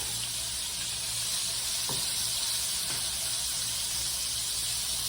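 Battered shrimp frying in hot oil until crispy, a steady dense sizzle and hiss throughout with a couple of faint soft knocks, no voices.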